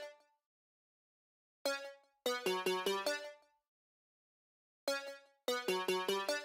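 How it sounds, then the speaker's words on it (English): A second plucked synth melody from a vocal trap beat, bright harmonic-rich notes in two phrases: a lone note, a pause, then a quick run of repeated plucks, each group fading out before the next. "And then we have one more pluck"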